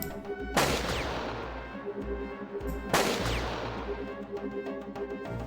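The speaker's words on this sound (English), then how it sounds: "we're getting shot at" Gunfire in the Jagged Alliance 2 video game, two sharp shots a couple of seconds apart, each trailing off in a decaying echo over a low ambient hum.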